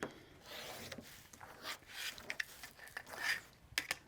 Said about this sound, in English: I am using a rotary cutter to trim this again.